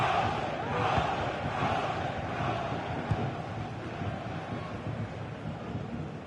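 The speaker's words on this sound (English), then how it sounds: "the crowd have been brilliant. They're still driving the team on." A stadium crowd in the FC25 football video game keeps up a dense, continuous roar of cheering and chanting, steady and loud throughout with no clear breaks.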